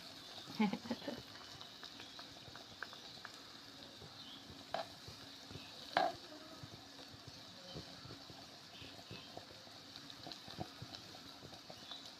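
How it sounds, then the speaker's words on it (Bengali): Fritters (bora) fry in a wok over a small clay stove, giving a faint, continuous low crackle with scattered light pops and a few louder knocks. "এদিকে বড়াও ভাজা হচ্ছে"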